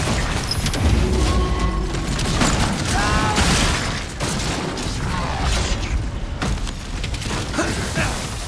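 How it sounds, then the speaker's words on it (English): A thrown concussion grenade in a video game: clattering metallic mechanisms and creaks, then a heavy booming burst and crashing debris amid continuous loud battle noise, with sharp impacts scattered throughout. "Throwing a concussion grenade!"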